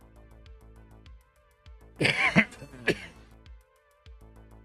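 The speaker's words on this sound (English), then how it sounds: "I coughed into the microphone." A single close cough straight into a microphone during a live video game stream, loud and harsh with a second smaller burst, set against quiet game music.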